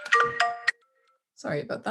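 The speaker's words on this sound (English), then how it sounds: "sorry, that's my phone." A mobile phone ringtone goes off close by during a lecture on emotions and the pandemic: a loud, bright melodic chime of about three quick tonal notes, cut off abruptly, then a second of silence before someone briefly speaks.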